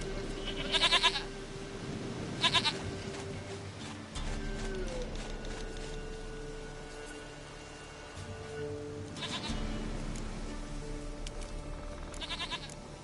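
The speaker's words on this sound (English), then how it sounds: "Goat of mine, dearest," Goat bleating in The Witcher III, several short nasal bleats in separate bursts over a steady game ambience and low hum.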